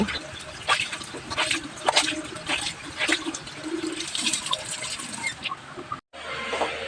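Water runs steadily from a water dispenser in a home, with a fluctuating splashing stream that cuts off briefly before resuming.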